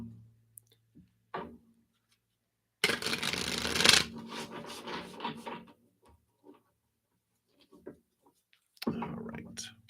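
Reading cards being shuffled by hand at a live card-reading session, a burst of papery riffling and card flicks lasting about a second, then softer handling taps and rustles, close and fairly quiet.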